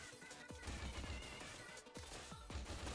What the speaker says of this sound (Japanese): てか爆発やばい